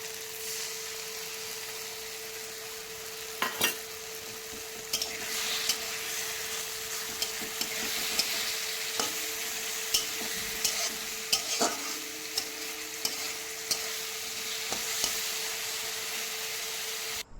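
Coriander and chili powder paste, mixed with water, frying in oil in a wok, a steady soft sizzle with repeated scraping and clinking stirs at irregular intervals, close and quiet, no talking.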